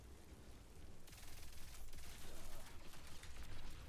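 Steady rain in the video game Marathon forms a faint, dense, even hiss with a fine crackling texture, swelling slightly partway through and continuing without any speech.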